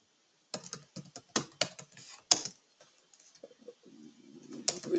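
Fingers typing Java code on a computer keyboard, a quick cluster of close clicks and taps followed by a sparser few keystrokes and a soft low rustle, with no talk.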